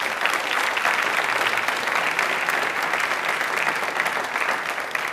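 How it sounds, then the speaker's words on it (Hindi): A hall audience at a Hindi-language fortnight quiz programme breaks into loud, dense applause that holds steady and close without a break for about five seconds. "प्लीज़ एक बार ज़ोरदार तालियां हो जाए"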